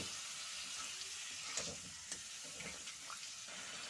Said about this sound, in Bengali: এবারে একটু জল দিয়ে কষিয়ে নেব